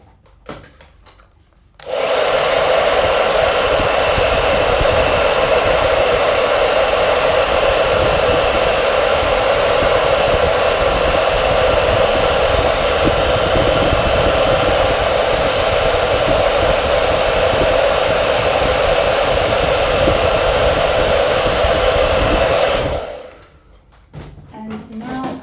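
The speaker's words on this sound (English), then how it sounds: "I'm gonna use a hairdryer." A hair dryer runs steadily at close range for about twenty seconds, drying wet acrylic paint, switching on abruptly and cutting off near the end with a loud, even whir and no talking over it.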